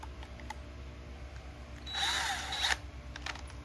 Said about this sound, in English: Then we're going to drill a hole.